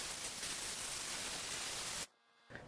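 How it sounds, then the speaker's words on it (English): Compressed air blasts out over a freshly washed circuit board for about two seconds, a loud continuous broadband hiss up close, which cuts off abruptly and leaves near silence. "And blow out with compressed air."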